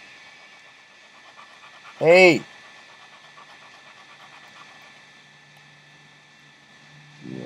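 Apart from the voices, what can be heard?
dog panting heavily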